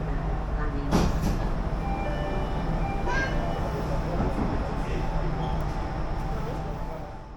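A Jakarta MRT train rides from Blok M BCA toward Dukuh Atas, heard as a steady loud rumble and hum of the moving car with faint tonal whines, while a voice speaks over it.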